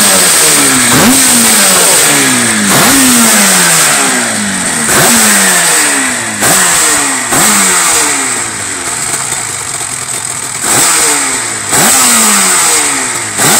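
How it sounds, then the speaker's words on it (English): An RD500 motorcycle engine revs over and over in a steady rhythm, each loud rise in pitch dropping back before the next, about once per second. "little bit of revving maybe? A little bit of revving?"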